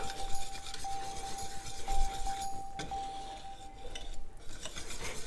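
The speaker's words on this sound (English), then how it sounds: "you just keep whisking until the cheese melts and it becomes a cheesy sauce" Asiago and Parmesan being whisked into a cheese sauce for homemade mac and cheese, a steady scraping stir with faint metallic clinks against the pot, close and continuous with no talking.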